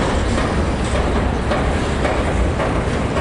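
Loud, unbroken roar of a long CSX freight train passing close in Fostoria, Ohio, with rolling wheel noise and faint rhythmic rail clatter, no one talking.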